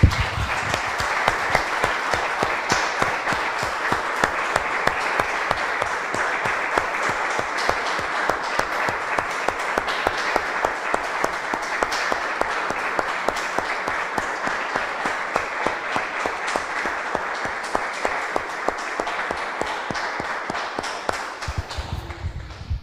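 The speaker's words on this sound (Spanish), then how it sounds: "Damos un aplauso, hermanos," A church congregation applauds steadily for the Lord, a dense, even wash of many hands clapping that holds loud and unbroken for about twenty seconds before stopping abruptly.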